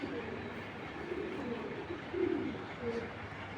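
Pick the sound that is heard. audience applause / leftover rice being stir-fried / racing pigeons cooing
racing pigeons cooing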